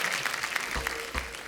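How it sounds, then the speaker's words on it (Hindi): Studio audience clapping for guests on a Hindi comedy talk show, a fairly soft, continuous patter of many hands with a couple of low thuds partway through. "एक बार जोरदार तालियां हो जाएं हमारे मेहमानों के लिए"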